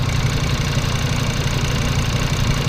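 An Audi TT RS engine idles steadily while warming up, with a low, even rumble and constant vibration, close by and unchanging throughout.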